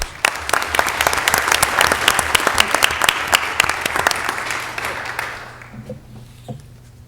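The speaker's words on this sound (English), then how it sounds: "Let's give all of them a big round of applause." A round of applause fills a city council meeting in Mobile, Alabama, honoring downtown alliance workers: brisk, dense clapping from the chamber audience that swells, then tapers off and fades near the end.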